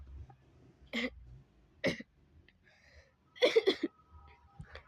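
A few sharp coughs and throat-clearing bursts, spaced apart and then a quick cluster of three, over a quiet room background.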